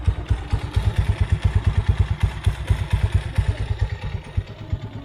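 A Kawasaki Mojo 200 motorcycle exhaust with a resonator idles nearby with a deep, throbbing, evenly pulsing rumble, loud and steady throughout.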